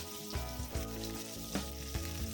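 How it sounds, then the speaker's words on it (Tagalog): Garlic sizzles in a pan of oil that was used earlier for frying pork liver, a short, close, steady crackling hiss with a few soft stirring bumps. "Then magkikisa tayo dyan ng bawang."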